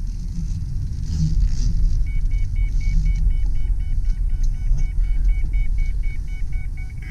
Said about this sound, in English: There goes that seatbelt warning.